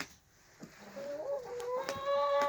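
Egg-laying hens cluck up close, with a few soft sounds building into a drawn-out, rising cackle that grows louder at the end.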